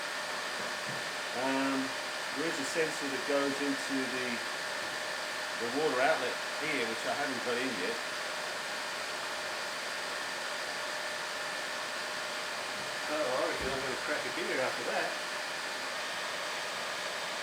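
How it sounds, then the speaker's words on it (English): A Honda CX500 motorcycle's radiator cooling fan runs on manual override in a hot shed, giving a steady, even whir throughout while someone talks over it in bursts. "I've got the fan running at the moment. Yeah, just manual override on the fan"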